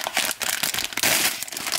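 A plastic packet is opened, its crinkling rustles coming in quick, close, fairly loud bursts for under two seconds, with no voice over it.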